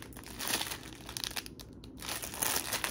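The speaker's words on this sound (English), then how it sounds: "Sorry for the crinkling." Plastic packaging around microfiber towels being handled up close, giving continuous loud crinkling and crackling with brief pauses.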